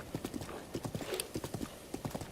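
Hooves clip-clop in quick, rhythmic bursts as a horse gallops across terrain in the video game Breath of the Wild, moderately close and steady.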